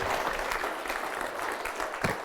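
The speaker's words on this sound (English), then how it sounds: "Give her an applause." An audience at the SFI Harvest gathering breaks into steady, moderately loud applause after a question session, an even wash of clapping that carries on through the short stretch without any talk.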